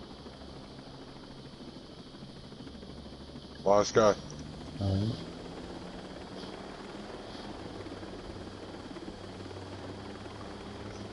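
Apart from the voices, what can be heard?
helicopter flying in a video game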